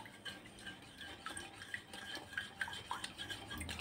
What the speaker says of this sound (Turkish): Aynı ölçüyle 2 çay bardağı da suyumu ilave ediyorum. Ve güzelce karıştıracağım.